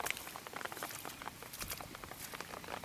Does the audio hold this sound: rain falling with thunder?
yes